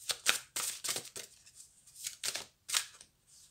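A deck of oracle cards is handled and shuffled, giving a series of close papery riffles and swipes in uneven bursts with short pauses between, with no talking.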